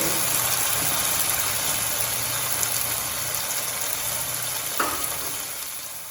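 Steady low roar of a gas stove flame turned down under a simmering Bengali prawn malai curry, a constant hiss with faint sizzling and one brief clink near the end.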